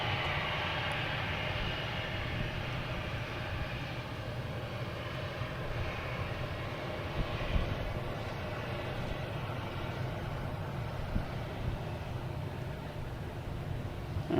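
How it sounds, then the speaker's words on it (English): A JetBlue Airbus A220 arriving from Cleveland passes low overhead on approach to Boston Logan, a loud continuous jet roar and engine whine that swells slightly mid-pass, with faint bird chirps above, no talking. "next coming in over our head will be a JetBlue, an A220 coming in from Cleveland"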